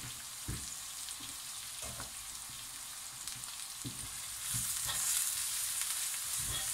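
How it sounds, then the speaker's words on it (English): Grated vegetables for a vegetable jalfrezi fry in a pan with a steady hiss and sizzle, broken by regular scraping and knocking stirs, growing slightly louder and brighter toward the end, with no voices. "So in that goes, and give that a good fry."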